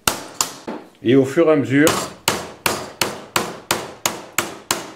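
Flat iron hammer beating copper into a shallow dish for a pop-pop engine, the blows loud, close and metallic. A brief spoken line comes first, then about nine sharp, evenly spaced strikes ring out.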